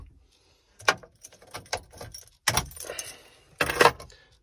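Keys jangle and rattle at close range in the ignition of a Renault Midliner truck cab as it is switched off, several short metallic bursts with quiet gaps between them.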